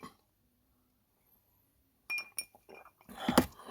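Glass clinking as someone sips whiskey from a tumbler with a chunky ice cube, a few short sharp clinks and light handling sounds after a silent start, close to the microphone.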